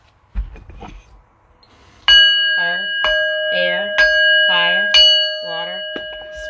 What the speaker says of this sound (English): let me cut this deck and I'm going to ring my bell.